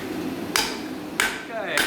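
A pulling hammer strikes metal being spread by hand forging: three sharp, ringing blows land close and loud at an even, unhurried pace, with no talk over them.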